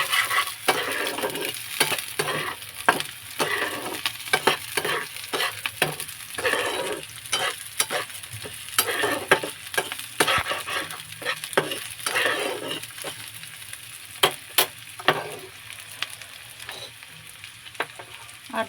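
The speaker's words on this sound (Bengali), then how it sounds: "প্রথমে দিয়ে দেবো পেঁয়াজ কুচিটা এই তেলের ভেতরেই" Chopped onion dropped into overheated oil for a prawn curry fries with a busy, continuous crackling sizzle, broken by frequent scraping stirs and taps of a spoon, close and loud with no voices.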